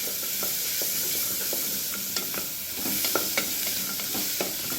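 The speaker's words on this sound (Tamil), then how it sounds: "இப்போ இதை வந்து நல்லா வதக்கிக்கலாம்." Chopped large onion and a handful of cashews sauté in a pan for paneer butter masala, a steady close sizzle with occasional soft stirring scrapes and clicks from a utensil, no voices.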